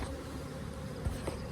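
A dense, continuous buzz of many bees at the entrance of a large, healthy hive colony, close and steady with a low droning hum and no talking.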